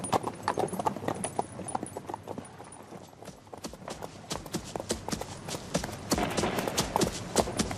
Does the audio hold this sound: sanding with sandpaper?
no